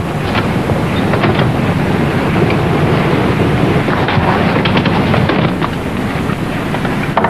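Strong wind blows outdoors in an old 1938 comedy film scene, a loud continuous rushing roar buffeting the microphone, with no talking.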